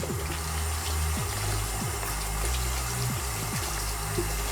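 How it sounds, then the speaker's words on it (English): Hot water runs steadily from a tap while hands are washed with soap, a continuous close splashing rush with no talking. "I'm getting ready to wash my hands using some soap and hot water."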